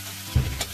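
Onion, tomato and capsicum fry in a pan, a soft steady sizzle broken by a short thump of stirring partway through, with no talk.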